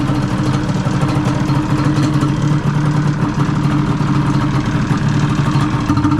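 A Yamaha Banshee four-wheeler engine, freshly rebuilt, idles close by with a loud, steady two-stroke burble and rattling clatter, holding an even rhythm throughout with no talking.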